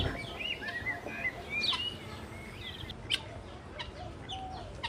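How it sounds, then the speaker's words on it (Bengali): Doves calling on a farm, several bird calls and chirps over a steady outdoor background with no talking. "খামারে ঘুঘু পাখিগুলো ডাকছে"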